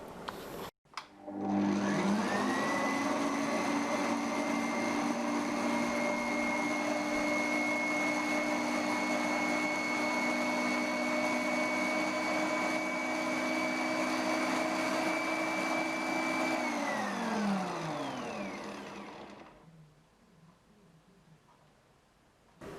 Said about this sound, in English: Now it's a time to mix them together on medium speed for about 2 minutes to make silky and smooth mixture for the cupcake.